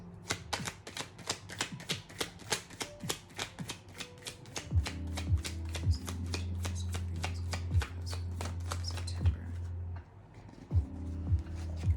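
Tarot card deck being shuffled up close, a rapid run of crisp riffling flicks for several seconds over a low steady hum, with no talk.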